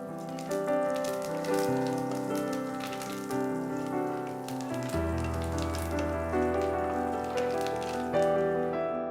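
Oil sizzles and crackles steadily in a pan as tempering spices and curry leaves fry, a continuous close hiss with scattered pops.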